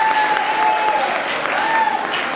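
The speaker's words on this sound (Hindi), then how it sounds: "कृपया तालियों की गड़गड़ाहट के साथ उनका स्वागत और अभिनंदन करने" Thunderous applause welcoming a guest at an evening devotional gathering, a continuous close wash of clapping filling the hall with a faint tonal hum underneath.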